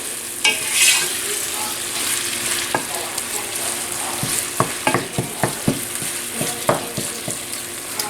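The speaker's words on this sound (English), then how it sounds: "here I am here browning up this ground beef" Ground beef browns in a pan with a steady loud sizzle, while a utensil stirs and scrapes against the pan in a run of sharp, irregular clicks.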